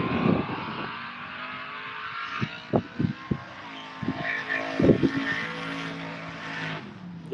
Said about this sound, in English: Cool car, sounds great. Sounds like it's got a bigger blower on it.